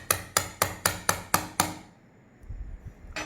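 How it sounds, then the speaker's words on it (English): A hammer drives a shoulder anchor into place in a workshop: seven sharp, evenly spaced blows, loud and close, then quiet with low thuds and a final knock. "We'll be using our hammer to put it into its own place."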